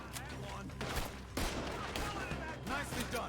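Gunfire crackles through a shootout in the Red Dead Redemption 2 video game, several sharp bursts of shots echoing at mid distance, with voices talking between them.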